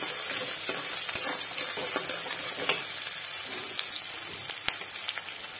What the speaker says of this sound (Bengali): পেঁয়াজ কুচি দিয়ে দিচ্ছি। পেঁয়াজটা ভালো করে ভেজে নেবো